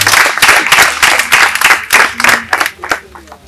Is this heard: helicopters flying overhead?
no